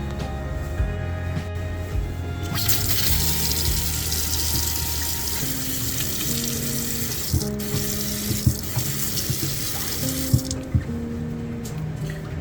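Water runs steadily from a freshly repaired Moen 8276 coffee bar faucet, a constant close-up rush that starts a few seconds in and continues to the end, with a low hum underneath.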